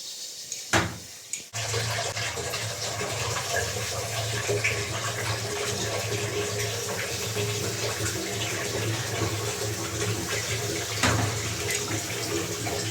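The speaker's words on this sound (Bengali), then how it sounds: "আর জল দিয়ে দিব 4 সাইডে।" Water is poured into a hot pan around the sides of chitoi pitha rice cakes, a steady close splashing and sizzling rush that runs continuously after a couple of sharp knocks at the start.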